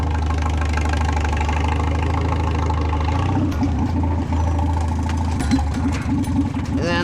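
A tractor engine idles close by with a steady low rumbling throb, then its tone shifts and a clattering, knocking rhythm joins as the machine is worked, with someone talking over it.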